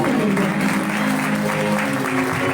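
A crowd claps enthusiastically in dense, continuous applause that stays loud throughout, at a religious sermon gathering.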